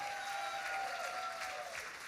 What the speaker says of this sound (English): One more round of applause all the way from New York City.